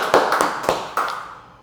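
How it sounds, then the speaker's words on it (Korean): A short burst of congregational applause at an early-morning prayer service in a Korean Full Gospel church, a few sharp claps bunched together that fade quickly into the room. "주께 감사와 영광의 박수 올려드리겠습니다."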